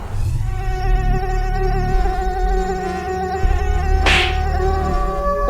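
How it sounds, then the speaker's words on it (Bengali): A high, steady insect whine drones continuously at close range, with a brief sharp burst near the end over a low background hum. "কি মশা কামড়াচ্ছে রে!"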